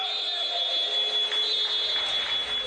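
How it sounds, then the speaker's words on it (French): A basketball game-ending buzzer sounds as one steady, loud, sustained tone that holds for the whole moment over a dense arena background. "Et Lolia au buzzer."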